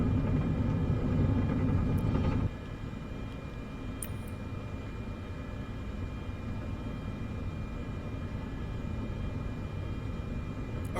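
An airplane rolls along the runway at Spokane, Washington, in Microsoft Flight Simulator 2024, with a steady low engine and wheel rumble that drops slightly in level after a couple of seconds and then holds constant.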